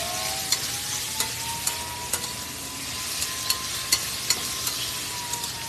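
Sautéed shrimp paste with onion and tomato sizzles steadily in a pan, a constant close hiss broken by regular sharp clicks of a spoon against the pan.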